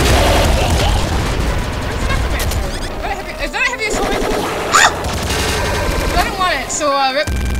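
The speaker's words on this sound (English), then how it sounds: "Is that a heavy assault rifle?" Rapid heavy assault rifle fire bursts through the busy soundtrack of the video game Nuclear Throne, loud and dense, mixed with explosions, electronic effects and music, continuing for several seconds with brief gaps.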